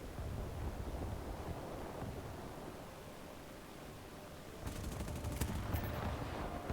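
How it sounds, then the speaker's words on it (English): In a video game, an aircraft's machine guns crackle in rapid bursts over a steady roar of engine noise, growing denser and louder toward the end. "Trying to use just the machine guns and save the cannons."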